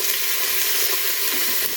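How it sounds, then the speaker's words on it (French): Meat browning in oil in a damaged cooking pot where food sticks, giving a steady, close, even sizzle throughout with no talking. "on va faire revenir"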